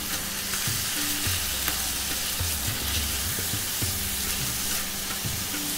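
Food for chicken tikka masala sizzles in a cast iron pot: a dense, continuous frying hiss, loud and close, with faint low bubbling and occasional shifts as it cooks.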